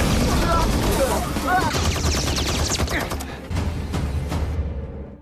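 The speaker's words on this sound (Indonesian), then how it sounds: "melakukan tembakan terus-menerus ke arah anaconda mutan tersebut" Sustained bursts of automatic gunfire pour into a mutant anaconda, rapid crackling shots layered over a dense, loud din of battle with voices underneath for about five seconds.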